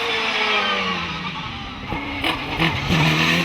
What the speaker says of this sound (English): The tail snaps briefly out of line, but Groves is right back on course